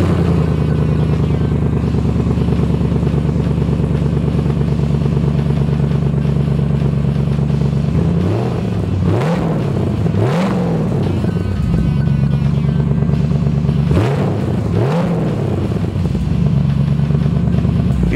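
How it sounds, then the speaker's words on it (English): A 1967 Chevrolet Camaro RS/SS pro touring car with an LS-1 V8 idles loudly with a steady lumpy rumble, then revs twice around the middle and twice more near the end before settling back to idle. "Let me go ahead and fire it up for you and you tell me if it sounds stock enough for you."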